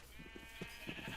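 A sheep in the Minecraft video game bleats faintly in a short, wavering call, heard alone without any talk over it.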